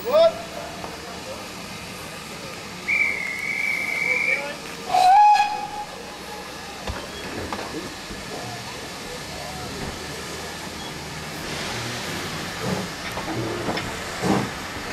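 A heritage steam train departs on the Gloucester and Warwickshire Railway, with whistle toots, a burst of steam hiss and a soft, building chuff as it pulls away, alongside voices nearby.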